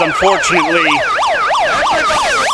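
A loud wailing emergency siren blares as a wrestler's entrance cue in an indoor wrestling arena, its rising and falling sweeps repeating steadily throughout while a commentator's voice briefly speaks over the start.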